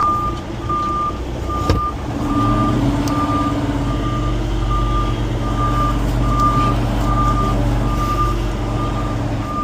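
A truck turning around gives off a loud, steady engine rumble, with a reversing alarm beeping at an even rhythm throughout and one sharp knock early on.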